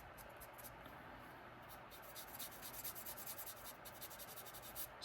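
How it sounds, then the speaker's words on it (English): The edge of a leather wallet piece is sanded by hand, a close, steady scratchy rubbing with a brisk back-and-forth rhythm that grows more pronounced in short repeated strokes. "so you can kind of sand that a little bit. Make that a little straight."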